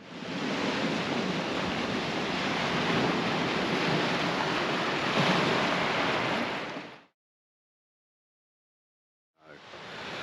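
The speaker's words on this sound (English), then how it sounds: "Watched the waves come in on the crashing against the rocks" Ocean waves crash against coastal rocks near a beach camping spot, a loud, continuous roar of surf that cuts out abruptly for a couple of seconds before resuming.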